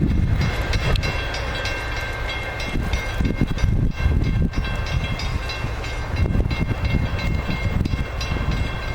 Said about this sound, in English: That was a good train.